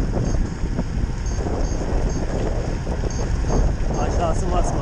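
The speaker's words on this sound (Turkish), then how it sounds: "Çok rüzgar var." Strong wind roars against the microphone on a rough road descending toward the Black Sea, a constant close buffeting mixed with vehicle motion, while someone talks over it.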